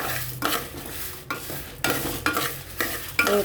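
Lentils dry-roasting in a pan over low to medium heat for homemade sambar powder, stirred in repeated scraping sweeps with soft rattling of the grains against the metal, close and alone without talk.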